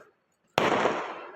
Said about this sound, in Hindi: गाइस पटाखे ही फूट रहे हैं।